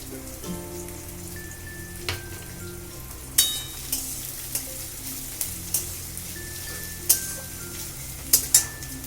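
Chopped green chili hits a hot pan and fries with a continuous soft sizzle, with several sharp utensil clicks and taps spread through it and a faint tonal hum in the background.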